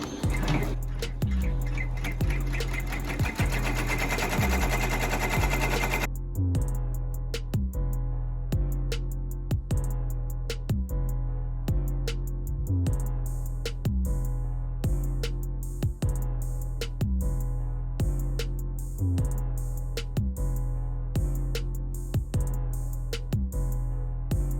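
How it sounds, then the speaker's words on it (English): An embroidery machine runs an appliqué tack-down stitch on a T-shirt, a steady rhythmic mechanical tapping of regular needle strokes repeating for the whole stretch, louder and busier at first and then settling into an even pulse. "And it's going to do the tack down stitch"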